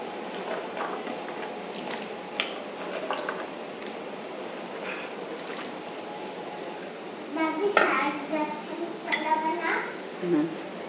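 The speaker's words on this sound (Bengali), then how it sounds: "এবার আমি আলুগুলা দিয়ে দিচ্ছি, দিয়ে আমি 2 মিনিট মতো সিদ্ধ করে নেব।" Potato pieces boil in a pot of water for restaurant-style French fries, giving a steady hiss of steam and bubbling with a few louder bubbling bursts toward the end.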